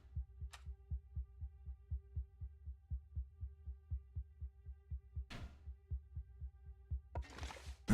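A heartbeat pulses in the music of the survival game The Long Dark as a steady, soft, low thump, repeating about three times a second over a faint hum, with a few brief rustles near the end.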